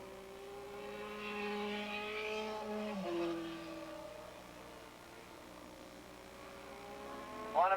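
Super Street class racing motorcycles, Suzukis chasing a Kawasaki, engines droning and shifting pitch around turn two at Willow Springs Raceway in 1987, heard at a moderate distance with a brief sharp burst near the end.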